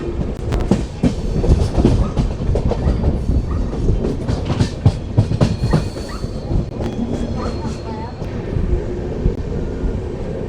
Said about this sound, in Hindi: मेन लाइन पे पहुंचती हुई हमारी ट्रेन।